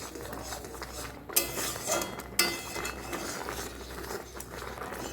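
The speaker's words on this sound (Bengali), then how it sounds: "এটাকে কিন্তু এইভাবে নাড়তে থাকতে হবে যাতে তলায় না লেগে যায়।" Carrot and vermicelli being stirred in milk in a pan, a spoon scraping and clinking against the metal in a steady, close run of soft scrapes with a couple of sharper knocks.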